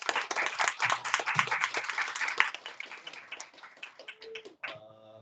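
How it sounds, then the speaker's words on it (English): A small audience at a game development talk gives a fairly quiet round of applause, individual claps distinct and close, thinning out toward the end before a soft electronic tone takes over. "Give him a one round of applause."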